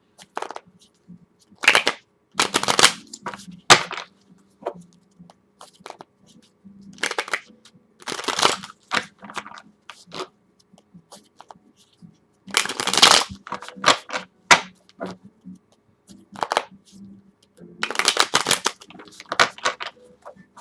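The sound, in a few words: shuffling tarot cards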